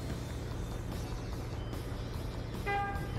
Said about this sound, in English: Honk the horn a little bit.